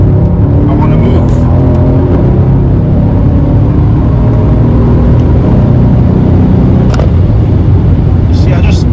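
A Mercedes C63 AMG of nearly 500 horsepower accelerates hard to overtake on a Polish country lane, a loud continuous low engine roar with road and wind noise heard from inside the car.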